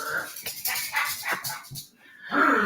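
A single dog barks in a quick run of sharp, moderately loud barks, then pauses before a final longer bark.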